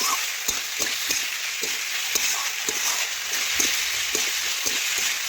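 Vegetables for shukto sizzle in a pan as water is poured in. A loud, hissing fry continues with regular soft knocks of the spoon stirring. No speech.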